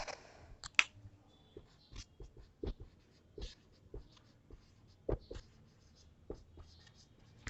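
Pen or pencil scratching on paper as notes are written by hand during an economics class, a series of short, quiet scratchy strokes and taps in irregular rhythm, close by, with no talk.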